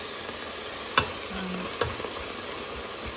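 Spinach sizzles softly in a pan, a steady quiet frying hiss broken by two sharp clicks of a utensil against the pan.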